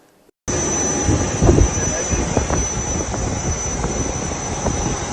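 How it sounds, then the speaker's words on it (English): Private jet engine runs loud and close at an Apapa airport in Bauchi, kicking in abruptly after a brief silence and holding a steady roar with a high whine, with faint sporadic voices underneath. "today they fly around, with private jet"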